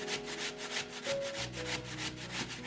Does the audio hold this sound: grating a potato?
yes